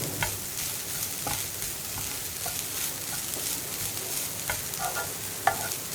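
Coconut, sugar and grated carrot sautéing in ghee in a pan: a steady, close, soft sizzle broken by scattered scraping stir clicks, with no voices.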